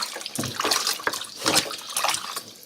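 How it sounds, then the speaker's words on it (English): Lamb meat is rinsed under a running kitchen tap, giving splashy, uneven water sounds with bursts as the pieces are turned, close and moderately loud. "I'm gonna rinse it under a running tap for a minute."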